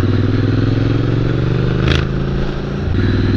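Scrambler motorcycle riding off-road, its engine close and loud with a steady throbbing drone, a brief clattering burst midway and a shift in engine note near the end.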